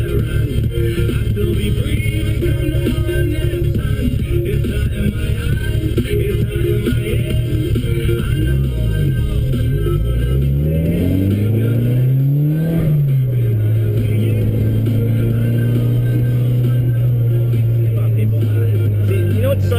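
A red Mitsubishi Lancer Evolution fitted with an FP turbo idles with a loud, steady rumble, then revs hard through a wide-open-throttle pull, engine pitch climbing and falling before settling into a higher, sustained drone.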